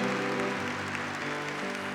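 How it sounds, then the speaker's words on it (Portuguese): An audience applauding at a Catholic priest's religious gathering: continuous dense clapping held at a steady level throughout, with sustained tones carrying underneath. "Vamos aplaudir essa mulher de Deus"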